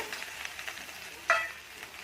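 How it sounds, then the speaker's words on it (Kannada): Onion, garlic and green chilies fry in oil in a pan, holding a steady close sizzle throughout with one brief louder crackle near the middle. "ಬೆಳ್ಳುಳ್ಳಿ, ಮೆಣಸಿನ್ಕಾಯಿ, ಎಣ್ಣೆ ಚೆನ್ನಾಗಿ ಫ್ರೈ ಆಗಬೇಕದು."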